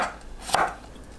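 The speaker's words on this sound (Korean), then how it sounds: "마늘을 편으로 썰어줍니다." Knife slicing garlic into thin pieces on a cutting board, a couple of quick crisp chopping taps with one sharper cut near the middle, close and clear without talk.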